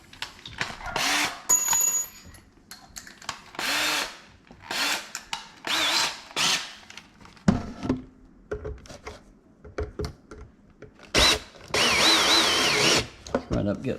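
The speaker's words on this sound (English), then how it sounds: "you can finish it up with your drill if you want" A power drill drives screws for cabinet door handles in repeated short bursts of whirring, each a second or so long and separated by pauses, with a voice talking between them.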